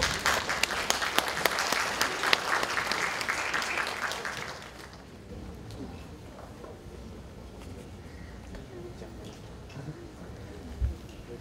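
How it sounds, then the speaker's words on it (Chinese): Lively auditorium applause welcoming two lecturers at a university lecture hall, many hands clapping loudly for about four seconds before fading to a quiet room with scattered faint sounds. "现在就让我们以热烈的掌声欢迎陈文茜陈老师以及徐"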